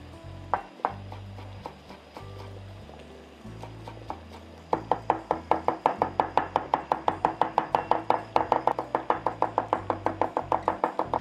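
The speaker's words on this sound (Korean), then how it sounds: "파슬리는 줄기를 제거하고 잎만 곱게 다져주세요" A knife chops parsley leaves finely on a cutting board while a tartar sauce is prepared: scattered taps at first, then a fast, steady run of crisp, close knife strikes.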